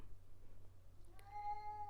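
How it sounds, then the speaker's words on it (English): A house cat meows for its food at lunchtime, a single drawn-out, tonal cry rising clearly over a low steady room hum after a moment of near silence. "Alfredo's my cat, for those of you who don't know, and he just had to let me know it's almost lunchtime."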